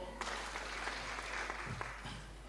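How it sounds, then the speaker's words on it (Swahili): Congregation applause at a Kikuyu-language church service, steady clapping from many hands filling the room at moderate level, with a few voices mixed in underneath. "tumpia makofi"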